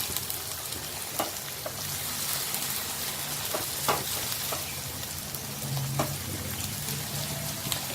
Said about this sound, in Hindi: अदरक लहसुन की पेस्ट के साथ हमें अच्छे से भूनना है प्याज को